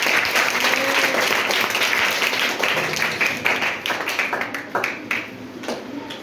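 A class of students claps loudly and densely together in a classroom, a full burst that thins into scattered, uneven claps as it fades toward the end.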